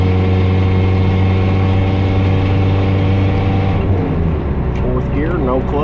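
A 5-speed truck engine drones loud and close, steady for several seconds, then its pitch shifts and climbs as the truck accelerates and changes gear without the clutch.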